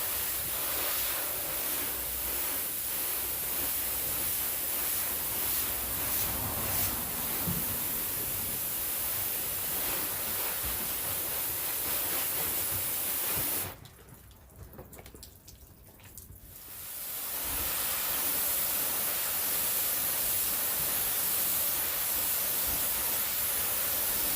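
Water sprays from a hose onto waxed car body panels, a steady loud hissing rush with a brief quieter gap partway through before the spray resumes.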